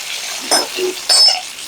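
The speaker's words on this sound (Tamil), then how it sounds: "தாளித்து கொட்டிடுவோம் இந்த முந்திரி எல்லாம் மிளகு சீரகம் எல்லாம் பாருங்க இதெல்லாம் பொரிஞ்சுடுத்து" Cashews, black pepper, cumin and curry leaves crackle in hot oil as a tempering for pongal. Two short, close sizzling bursts rise over a steady low hiss.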